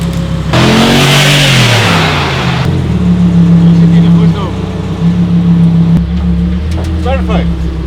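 Supercar engine revving and idling loud and close as the car is driven up onto a transport truck, with a brief roaring rise at the start, then a steady throbbing drone and a few clicks near the end.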